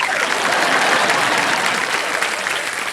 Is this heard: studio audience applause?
yes